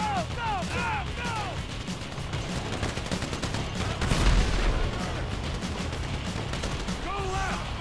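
Gunfire crackles continuously through a Grand Theft Auto 5 heist shootout, with a heavier boom midway, while voices shout over the start and end.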